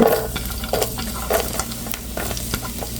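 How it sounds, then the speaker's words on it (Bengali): Garlic goes into red chillies frying in oil, a bright steady sizzle broken by rhythmic stirring scrapes, close and moderately loud with no talking. "মরিচটা লাল লাল করে ভেজে নিয়েছি এখন রসুনটা দিয়ে দেব"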